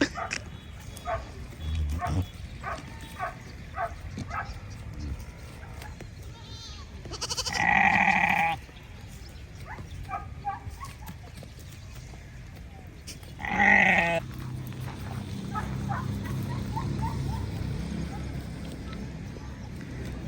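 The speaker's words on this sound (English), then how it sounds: "What's wrong with these goats?" Goats and a ram on a farm, with two loud bleats standing out several seconds apart amid outdoor noise and intermittent talking.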